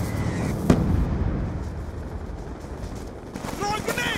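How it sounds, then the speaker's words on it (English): Missile strike explosions in Call of Duty Black Ops 2, a dense, rumbling barrage of booms and blasts with gunfire-like cracks, loud and continuous, with game voices calling out over it. "Missile inbound."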